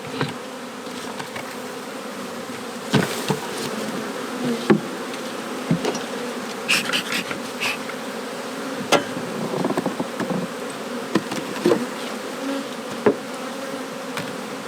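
Honey bees buzzing around an opened hive during a spring inspection, a dense, continuous drone near the microphone, with sharp clicks and knocks from frames and tools scattered throughout and no talk.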